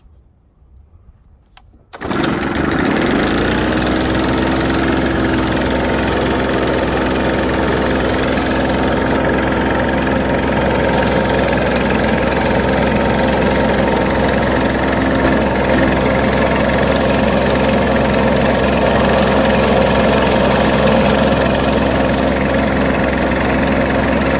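An Echo PB-580T backpack leaf blower engine after a tune-up, starting up and then running at a steady, smooth idle, loud and close, with a constant drone that holds evenly throughout.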